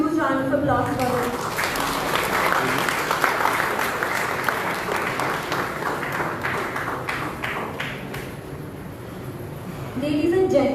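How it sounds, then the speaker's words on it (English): Audience applause at a prize distribution function for a cooking competition, a dense, loud burst of clapping that swells, holds steady for several seconds, then thins out as an announcer's voice resumes. "Can we have a huge round of applause for him?"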